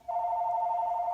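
A phone rings with a single steady electronic tone that starts sharply and holds at a moderate level, close by and alone.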